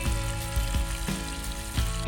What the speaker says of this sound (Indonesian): Bunyi gemerisik penggorengannya satisfying banget nih.